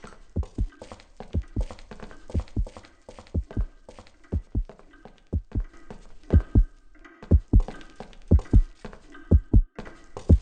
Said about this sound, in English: It seems as if this chrono eider is alive, like a heart beating in the center of the universe.